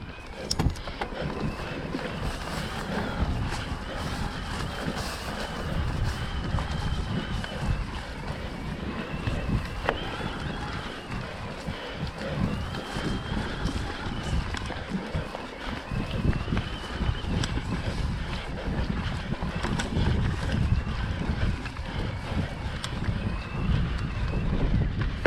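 A boat motor runs on open water, a steady broadband drone layered with wind buffeting the microphone and splashing hull noise, continuous and fairly close for the whole stretch.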